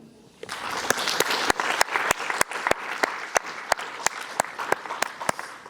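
An audience applauds at a special event for the Tropicale Amissa Bongo 2023 cycling race, a sustained crowd patter punctuated by loud, sharp individual claps close to the microphone.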